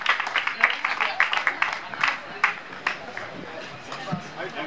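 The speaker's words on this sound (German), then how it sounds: "Ein Applaus für die Zumba-Gruppe" Scattered clapping from a live audience greets a Zumba group at an outdoor event in Karlsruhe, a loose crowd applause with voices murmuring and a few louder claps standing out.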